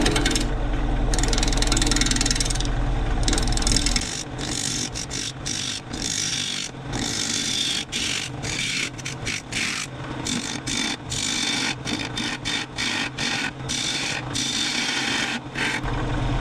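A wood lathe spins a bowl blank at 900 RPM while a gouge shapes the outside curve and flattens the bottom, giving a steady loud scraping rasp broken by frequent short pauses as the tool lifts off the wood.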